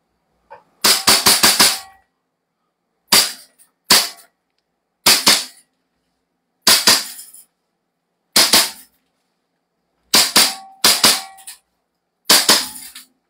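Toy pistol fired in a series of sharp cracking shots, a quick burst of several then single and double pops spaced out over the stretch, loud and close with silence between, no talking.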